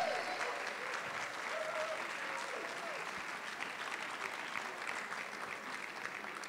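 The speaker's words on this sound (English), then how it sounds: "Please give her a round of applause" An audience applauds for Gabrielle Dennis, sustained, even clapping from a crowd at moderate distance, with a voice faintly under it.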